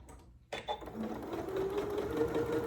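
Janome Memory Craft MC9450 sewing machine stitching a zippered pouch, starting abruptly after a quiet moment and running steadily with a close, even motorized whir, no talking.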